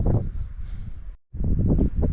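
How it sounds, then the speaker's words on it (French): Strong gusting wind on a Pyrenees mountain trail, loud and buffeting close to the microphone, with a brief lull midway before the roaring gusts return. "il y a trop de vent, ça s'envole là."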